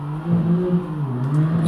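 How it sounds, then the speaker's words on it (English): A car engine revs and accelerates past nearby, a steady mid-pitched exhaust drone that rises slightly in pitch and holds loud for under two seconds. "Did you hear that exhaust?"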